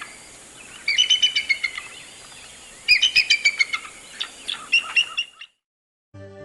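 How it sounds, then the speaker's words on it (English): An eagle calls in three bursts of rapid, high-pitched piping chirps, each series of about eight to ten notes falling and fading, heard clearly and alone with short pauses between them. "Let's listen the sound of an eagle."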